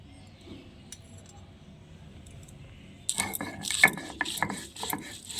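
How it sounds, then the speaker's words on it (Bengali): Green chilli and coriander being ground on a shil-nora stone, a quiet stretch giving way to a burst of rough, scraping, clattering strokes that repeat in an uneven rhythm close by. "শিলনোড়াতে বাটা হচ্ছে"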